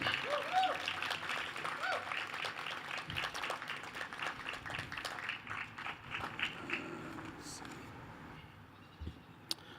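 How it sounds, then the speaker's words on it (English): Audience applause at a poetry event in a theater, moderately distant, steady clapping that gradually thins out and fades, with a few scattered claps near the end. "Can we give another round of applause to all the poets laureate?"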